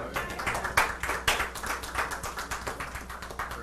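Congregation in a church clapping hands in praise, a steady run of sharp, fairly close claps with a few louder accents over a low room hum.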